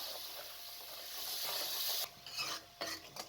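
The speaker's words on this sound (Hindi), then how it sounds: "तमाम चीज़ों को अच्छे तरीके से मिक्स कर लें" Blended tomatoes are stirred and mixed in a pan, a close rasping, scraping churn that swells and then breaks into short bursts of stirring.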